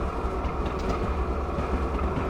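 A Norfolk Southern freight train runs in Train Simulator, a dense, steady low rumble with faint clatter throughout, loud and continuous with no talk.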